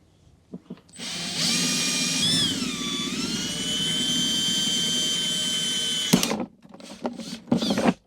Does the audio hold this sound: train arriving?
no